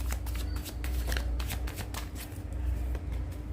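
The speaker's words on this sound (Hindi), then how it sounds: "one more shuffle" A deck of tarot cards being shuffled by hand, a quick run of crisp riffling flutters close up, with a soft pause near the end before resuming.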